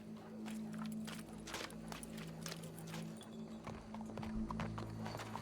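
Horse hooves clip-clopping in Red Dead Redemption 2, a steady run of close, clear hoofbeats with a low droning hum under it and a faint voice briefly mixed in.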